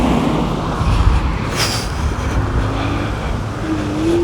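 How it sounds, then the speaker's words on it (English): Cars pass on the road heard from inside a vehicle waiting to pull out, a steady broadband roadway rumble with one passing swell and a faint rising tone toward the end. "Wait for these cars."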